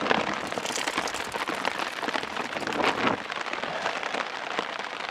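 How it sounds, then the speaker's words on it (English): Rain drums steadily on a blue tarp, making a dense, even patter with scattered louder drops and no voices. "the rain's pretty discouraging."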